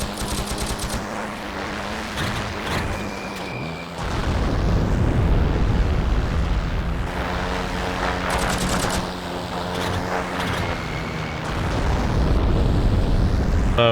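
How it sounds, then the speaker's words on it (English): Repeated booming explosions and rapid gunfire erupt in a chaotic battle mix, with heavy blasts from P-38 bombs landing in bursts and a synthetic, game-like sheen, in the game Heroes and Generals. "Best to get some altitude for your bombing run, and then drop your bombs"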